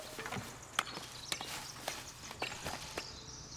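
A horse's hooves clip-clop in the Foundation village-building video game, a steady walking rhythm of about six distinct clacks, moderately close and clear over soft ambient game sound.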